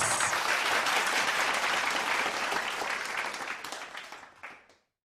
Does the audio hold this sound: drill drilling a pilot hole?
no